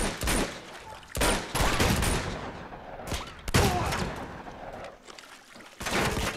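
Shotgun blasts in the PS4 video game Uncharted 2: Among Thieves: several loud, separate booming shots spaced about a second apart, each with a short decaying tail, over continuous in-game background noise.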